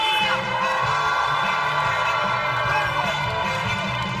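Crowd cheering and whooping at a live singer's performance at the Cheongdo Daeboreum folk festival, a steady, fairly loud roar blended with sustained music.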